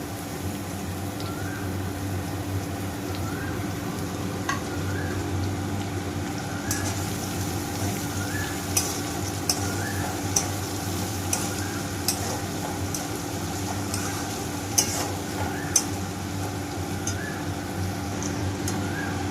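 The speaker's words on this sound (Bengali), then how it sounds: "এবারে পেঁয়াজটা ভাজবো, পেঁয়াজ আর এই চেরা কাঁচা লঙ্কাটা দিয়ে দেবো।" Onions and slit green chillies frying in a wok with cumin and bay leaf, a constant loud sizzle with a low steady hum beneath and a few light taps of stirring scattered through.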